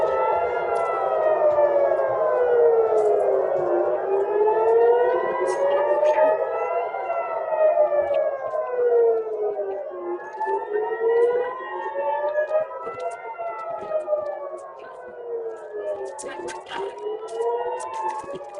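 Several civil defense sirens wail together, their pitches rising and falling in slow overlapping sweeps that stay loud and continuous throughout, with faint bits of voice underneath.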